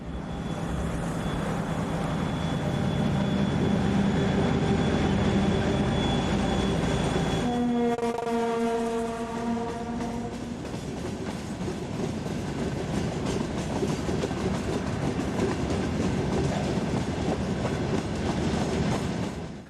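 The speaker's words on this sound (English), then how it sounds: "There are several iron ore trains running each day supplying the giant Huta Katowice steel mill." Broad gauge ST44 diesel locomotive hauling a heavy iron ore train to a steel mill near Katowice in Poland, with a loud droning engine, a sustained horn-like tone partway through, and continuous rumbling wagons rolling past.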